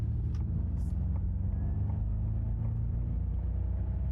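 A Ford Mustang Mach-E electric car accelerates with a steady low drive hum and road rumble from inside the cabin, a faint whine riding over it, constant and fairly quiet.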